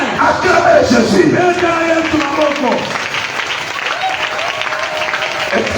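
Church congregation in Kinshasa applauding and cheering loudly and steadily throughout, with voices shouting over the clapping.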